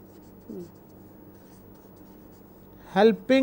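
Chalk or marker scratches briefly across a classroom board in a few short strokes, quiet and close, with a voice speaking in between.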